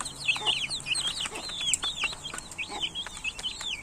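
Pedigree chicks peeping and clucking while eating grain, a busy run of short high chirps, fairly faint and close, with no talk.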